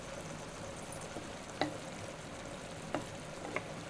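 Tamarind juice with green chillies simmering in hot oil for pulihora, a steady soft sizzle and bubble with a few brief clicks of a spoon against the pan.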